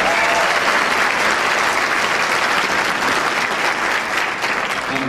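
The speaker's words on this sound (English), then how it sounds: "Give yourself a round of applause." An audience applauding during a karate school talk, a steady, loud wash of many hands clapping that holds for several seconds without speech.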